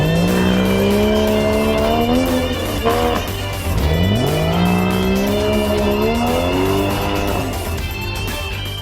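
Porsche cars are driven hard on a course testing acceleration, slalom and braking, engines revving loudly and rising in pitch as tires squeal and skid close by, one sustained howl followed by another surge.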